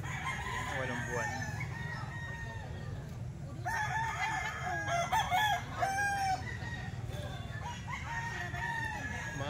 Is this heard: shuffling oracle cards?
no